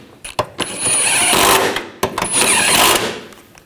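Power tool driving and tightening rear lower control arm bolts on a 2009-2017 Volkswagen Tiguan, two loud close bursts of whirring impact rattle separated by a short pause.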